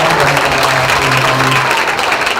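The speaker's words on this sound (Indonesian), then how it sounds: "tepuk tangan buat Pak Ahmad dan" An audience at a live event in Bandung claps steadily and loudly, a dense wash of applause that holds for the whole moment.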